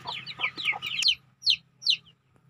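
A farmyard hen clucks in a run of quick, close calls, with a few louder separate clucks after a short pause, while faint higher chick peeps may sit underneath.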